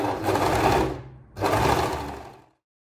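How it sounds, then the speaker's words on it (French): A sewing machine stitches around a knit fabric top that is three layers thick, heard close and loud in two continuous whirring runs with a brief pause between them, then silence. "Couds sur tout le tour en vérifiant bien de prendre les 3 épaisseurs."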